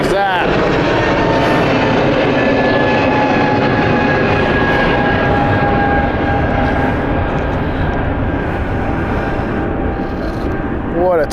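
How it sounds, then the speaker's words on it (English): An airliner takes off from London City Airport with a loud, sustained jet roar and a steady engine whine that stays strong and close throughout, with people talking over it. "What a takeoff."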